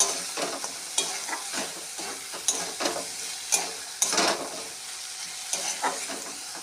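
Dal mixture sautéing in a pan, with sizzling frying broken by repeated scraping stirs of a spatula, close and moderately loud, no voices.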